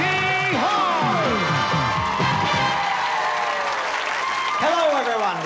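Studio audience on the 1985 Let's Make a Deal game show with its host, applauding and cheering in a steady loud wash, with whoops, a music sting and a voice carrying over the clapping.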